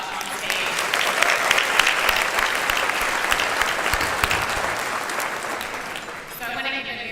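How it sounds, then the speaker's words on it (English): A large audience at the 2025 Harris County State of the County address applauds in a loud, sustained round of clapping that holds steady for several seconds before easing slightly near the end. "Can we get a huge round of applause for what we just saw on stage?"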